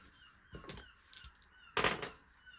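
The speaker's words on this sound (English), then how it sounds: "I'm sorry if you can hear the seagulls again." A few shrill gull cries ring out in short bursts against a quiet background, the last one loudest and closest.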